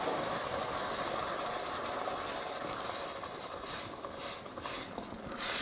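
Fresh tomato sauce simmering in a pot gives off a constant close hiss with bubbling, soft pops toward the end, steady and without speech.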